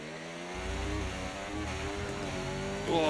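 Formula 1 race car engine under throttle in an F1 video game at the Texas circuit, a high buzzing whine climbing steadily in pitch, loud and close, with a short surge near the end.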